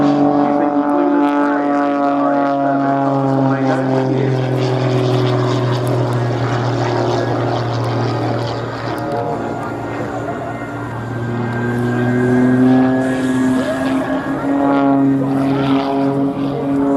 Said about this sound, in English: allowing the aircraft to fall slowly back through its own smoke